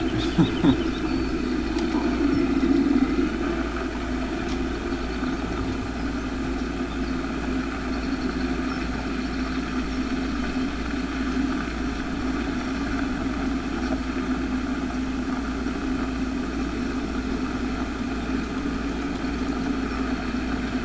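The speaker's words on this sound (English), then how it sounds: "Crashing into the trees here. That's good on the tractor." Tractor engine running steadily while clearing trees along a fence line, a continuous low idling drone held at an even level throughout with no talk.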